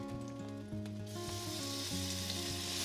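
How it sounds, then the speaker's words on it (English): Spices dropped into hot peanut oil in a pan for a Balinese spice paste, a loud hissing sizzle that swells suddenly and holds steady, heard close over a musical background. "Okay, I got some more oil in here, got the pan all nice and hot, so we're just gonna add these spices in"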